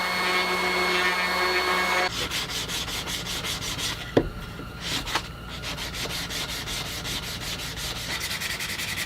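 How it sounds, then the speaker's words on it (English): Hand sanding the edges of wooden coasters cut from a failed guitar body: close rapid back-and-forth rubbing strokes in a steady rhythm over a constant background hum, with a couple of brief knocks. "You guys know I love hand sanding."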